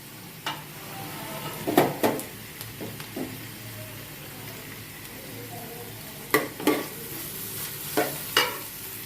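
Onions for vegetable biryani fry in a pot, a soft sizzle under repeated scraping stirs of a spoon that come in short bursts, close by.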